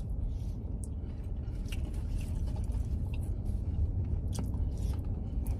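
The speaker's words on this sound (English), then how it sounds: "the hot dog has, the casing has a good crunch" Close, steady biting and chewing of a hot dog with a crunchy, snappy casing, soft crunches and wet mastication repeating without talk.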